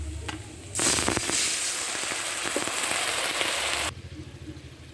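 Water is poured into a hot pan of fried onion and garlic while making a tengra fish curry, setting off a sudden loud, hissing roar of spitting and sizzling that lasts about three seconds before settling back to a softer crackle.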